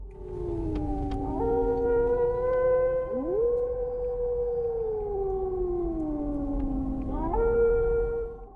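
Wolves howl at night beside a deserted road, several long rising and falling voices overlapping and sliding in pitch, fairly close and sustained throughout, with a low rumble underneath.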